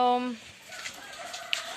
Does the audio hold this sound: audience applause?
no